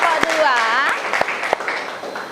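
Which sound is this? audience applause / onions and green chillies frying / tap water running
audience applause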